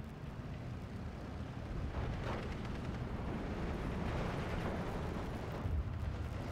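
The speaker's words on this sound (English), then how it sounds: "Tempest coming in for a free run here, taking a Pioneer out" Tempest fighter-bomber making an attack run in the Steel Division 2 wargame, a dense, continuous roar of engine and explosions with rumbling blasts building around the middle and a heavier thump near the end, no talk.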